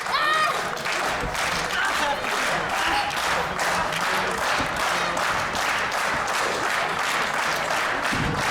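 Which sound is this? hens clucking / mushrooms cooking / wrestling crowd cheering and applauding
wrestling crowd cheering and applauding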